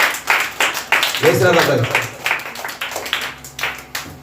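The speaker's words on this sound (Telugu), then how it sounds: "ఒకసారి గట్టిగా చప్పట్లు కొడదాం మీ టీంకి." Audience applause for a children's team at a Christmas candle-lighting service: a crowd clapping in a scattered, uneven patter throughout, mixed under someone speaking.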